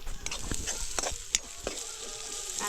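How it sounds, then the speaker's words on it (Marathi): A whole onion sautés in a pan over a wood-fired chulha for Konkan-style misal, with a soft close sizzle broken by several sharp scraping stir strokes. "कांदा मस्त परतून घेते"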